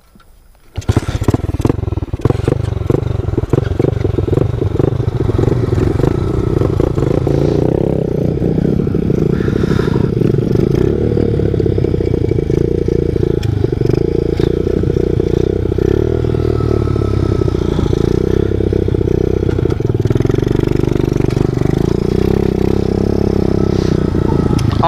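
A pit bike motorcycle ridden on a street, its small engine revving up loudly and then holding a steady, rough drone close by for the whole stretch, with clattery mechanical noise throughout.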